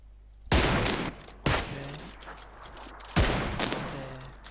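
Gunfire in PUBG on the Erangel map: three sharp, loud shots spaced irregularly over a few seconds, each with a reverberant tail, over a low steady background rumble.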